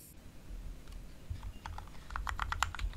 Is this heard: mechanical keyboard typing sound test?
yes